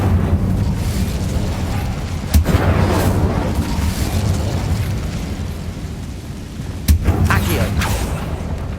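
An Incendio fire spell from Hogwarts Legacy flares with two abrupt explosive bursts several seconds apart, set in a continuous roaring, crackling wash of noise.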